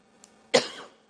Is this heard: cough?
yes